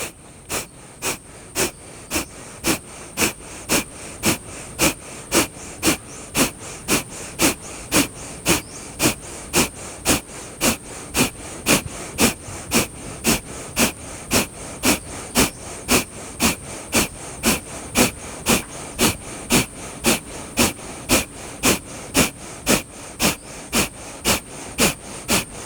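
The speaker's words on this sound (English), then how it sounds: "Inhale 3/4 of your breath. And begin breath of fire." Rapid yogic breath of fire, with forceful rhythmic exhalations pumping through the nose at a steady quick pace, close and continuous for the whole stretch.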